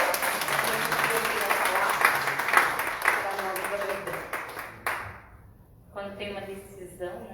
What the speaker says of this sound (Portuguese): Pastora Maristela, uma salva de palmas para Jesus pela vida dela.